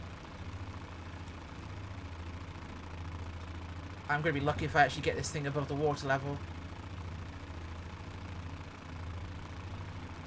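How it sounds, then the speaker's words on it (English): The single engine of a Fokker F.VII triplane drones at a low, steady level in the MSFS 2020 flight simulator, and someone talks over it for a few seconds in the middle. "This is not a powerful aircraft, a single engine."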